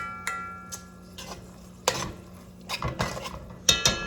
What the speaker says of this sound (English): just gonna mix it again really quick